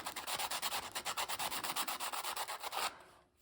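Rhythmic back-and-forth sanding smooths the edge of an antler button, a steady scratchy rasp of about a dozen strokes, close up, then it stops.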